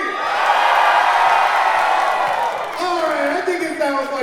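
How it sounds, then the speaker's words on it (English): Loud crowd screaming and whooping at a dance battle event as the audience votes for the dancers, a sustained roar that tapers off into scattered shouts and voices. "let me hear you scream"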